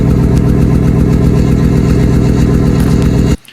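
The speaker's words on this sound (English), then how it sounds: "Let's hear it idle as if that's going to be a difference." A Trans Am engine idles steadily and loudly up close, a smooth, even rumble that holds until it cuts off near the end.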